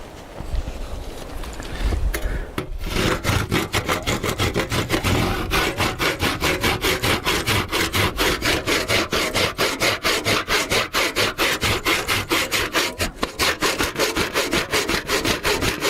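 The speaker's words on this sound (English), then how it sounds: "So we got to cut that off with the handsaw." A handsaw cuts off a protruding wooden peg in a timber frame joint, close and loud rhythmic rasping strokes at a steady even pace that continue for the whole stretch.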